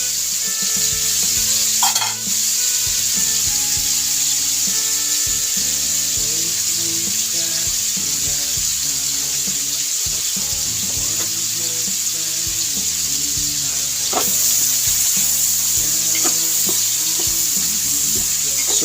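Garlic and tomato sautéing in a pan for chicken sinigang, a steady, close sizzle and hiss with stirring clatter underneath, alone throughout with no voices.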